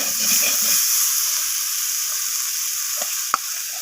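Fried potatoes being sautéed in a pan for a vegetarian dish give off a steady, close sizzling hiss. A few faint stirring scrapes come in near the end, with no voices.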